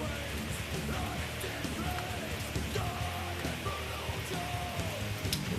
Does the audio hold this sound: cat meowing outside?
no